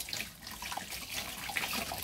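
Water poured over animals being bathed, a steady splashing and trickling stream that runs close and fairly loud for about two seconds with no talking.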